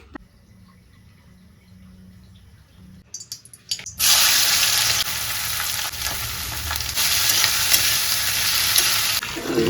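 Okra sizzles loudly as it fries and is stirred in a pan, beginning after a few seconds of quieter clinks and handling and then continuing as a strong, steady hiss with scraping movements.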